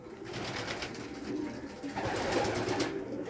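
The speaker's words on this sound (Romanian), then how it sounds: "Le vom da drumul porumbeilor afară pentru antrenament." Racing pigeons in a loft before a training flight, soft repeated throaty coos from several birds over a low background hum, fairly quiet and with nobody talking.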